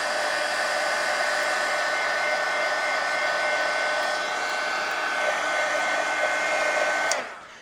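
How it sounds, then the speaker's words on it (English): A hair dryer blowing on a collage page in an altered collage book, a loud, steady close whir running continuously for several seconds before switching off abruptly near the end. "Let me dry it."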